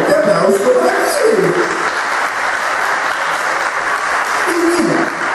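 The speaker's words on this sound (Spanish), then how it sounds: "Otro fuerte aplauso para sí." Audience applause follows a magic trick where a handkerchief changes color at a puppet and magic show, dense sustained clapping with a few voices calling out over it.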